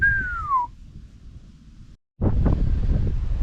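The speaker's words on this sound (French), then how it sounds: "Mais alors, ouf, il tient un vent." Strong wind roars and buffets the microphone, dropping out for a moment before gusting back hard; a brief whistling tone fades at the start.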